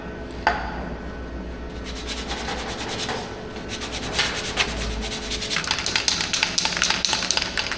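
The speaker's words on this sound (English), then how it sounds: "120 sandpaper" Hand sanding of a metal International B414 bonnet panel with 120 grit sandpaper: continuous rough scratching and rubbing, rhythmic back-and-forth strokes growing busier toward the end, close and fairly loud with no talk.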